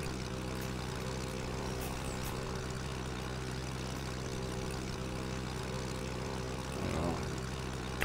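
A propeller airplane cruising in flight produces a continuous loud engine drone with a steady harmonic hum, unbroken throughout and swelling slightly near the end.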